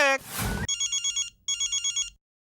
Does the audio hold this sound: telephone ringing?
yes